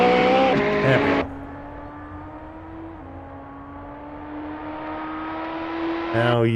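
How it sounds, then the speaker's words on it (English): A 517-horsepower Alfa Romeo four-seater race car at an Alfa racing championship qualifying session: a loud burst of engine and track noise, then a steady, droning engine note that slowly rises in pitch before the roar swells again. "Now you can hear the wonderful 500 horsepower, 517 horsepower 4-seater."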